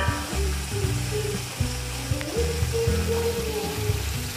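Potatoes frying in a pot for chicken vegetable pulao, a steady close sizzle broken by repeated clanks and scrapes of stirring.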